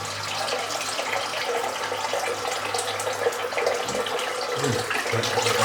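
Water runs steadily from a tap, a continuous close splashing hiss that shifts slightly near the end as the flow changes.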